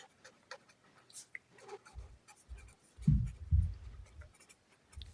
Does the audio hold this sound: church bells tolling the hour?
no